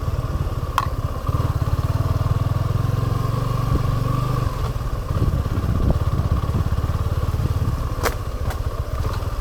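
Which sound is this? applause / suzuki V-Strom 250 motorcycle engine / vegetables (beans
suzuki V-Strom 250 motorcycle engine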